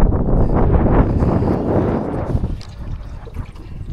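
Waves slapping and wind gusting around a Lowe 1236 12-foot aluminum boat with a 38 lb Makita electric motor, loud and rough at first with heavy wind rumble, then easing into choppier, patchier water noise.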